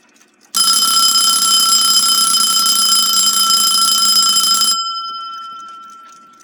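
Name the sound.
Westclox Baby Ben alarm clock ringing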